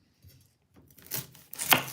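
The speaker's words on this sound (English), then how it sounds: "I'm also going to be chopping the parsley" A knife chops fresh parsley on a cutting board for an Egyptian omelette, starting with a few light taps and building into quicker, louder chopping strokes.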